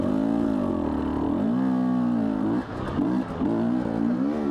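A Husqvarna TE250i two-stroke dirt bike engine revs hard and close, rising and falling in pitch with sustained throttle and a brief dip before climbing again.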